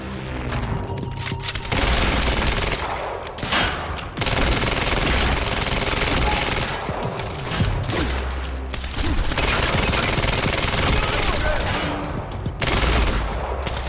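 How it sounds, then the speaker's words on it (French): Repeated shotgun blasts and dense gunfire from the video game Quantum Break fill the scene, loud and nearly continuous, broken by a few brief lulls. "Avance vers l'ennemi avec le fusil à pompe."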